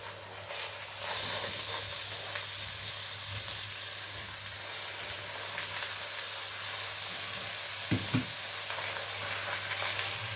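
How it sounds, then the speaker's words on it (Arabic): Chicken pieces fry with browned onions in a pan for a kabsa, producing a loud, continuous sizzle and hiss close up, with a couple of brief clinks near the end. "هنزل كده بالفراخ كده عشان تبتدي تاخد لون على كل وش."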